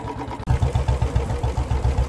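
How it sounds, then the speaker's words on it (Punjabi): A farm engine pumping irrigation water for rice fields thumps in a steady low, rapid rhythm, close and loud, after a brief quieter start. "ਜਿਹੜਾ ਘਰੇ ਇੰਜਣ ਚੱਲ ਰਿਹਾ ਆਪਣਾ ਉਰੇ ਆ ਰਿਹਾ ਬਾਈ ਪਾਣੀ"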